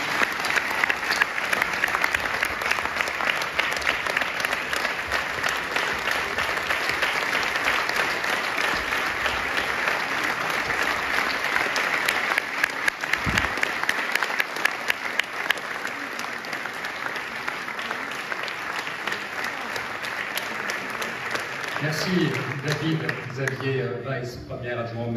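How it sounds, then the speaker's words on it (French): A theatre audience gives Nicolas Sarkozy a long, loud standing ovation at a solidarity evening for Magen David Adom. Dense, sustained clapping fills the hall and only thins and gives way to other sound in the final seconds. "Je pense qu'on peut vraiment applaudir et se lever pour applaudir Nicolas Sarkozy."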